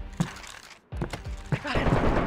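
Shots ring out in DayZ, a survival shooter, as several sharp reports break through close, excited voices.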